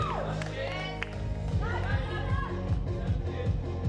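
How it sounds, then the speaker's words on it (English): A crowd applauds and cheers at the Street Workout Nordic Championship 2024, a steady wash of clapping and chatter under continuous commentator talk, with a few whoops rising above. "Big round of applause for Per."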